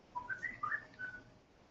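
A faint whistling phone ringtone in a chemistry classroom, a quick run of bright melodic chirps with a trailing note, heard from a distance over room hum.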